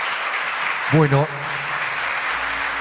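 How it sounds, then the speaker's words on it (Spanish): An audience at an architecture event in Tucumán keeps up a steady wash of applause. A voice speaks briefly over the clapping. "continúe el aplauso para ustedes, los arquitectos de Plural"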